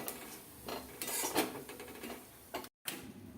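Cumin and crushed peanuts stirred in a pan, faint scraping and clinking of a utensil against metal in irregular strokes, with a short silent gap near the end.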